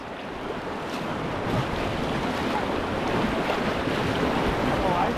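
A raft is paddled over rocks on a river, with a steady rush of moving water and wind buffeting the microphone, loud and continuous, and no clear individual paddle strokes.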